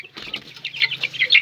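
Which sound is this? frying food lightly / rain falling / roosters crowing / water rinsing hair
roosters crowing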